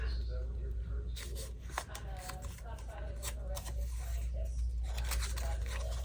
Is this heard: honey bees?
no